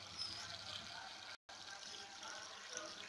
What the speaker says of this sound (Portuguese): tem que encher bastante água, viu?